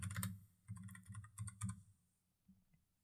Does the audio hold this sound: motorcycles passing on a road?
no